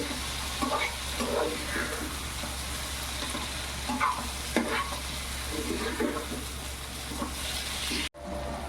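Mushrooms stirred in a pan for a green mushroom bhaji, a soft continuous sizzle with repeated scraping and clinking spatula strokes, moderately quiet and close, ending with a brief clunk.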